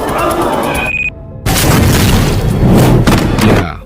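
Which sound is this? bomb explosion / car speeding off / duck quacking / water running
bomb explosion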